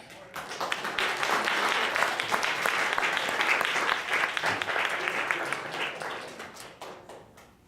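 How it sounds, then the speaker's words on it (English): An audience at a high school poetry reading by the New York Browning Society gives a round of applause, dense clapping that swells quickly, holds steady and then thins out and fades near the end. "Let's give a round of applause from the Browning School"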